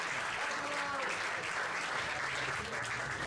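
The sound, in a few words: comedy club audience applauding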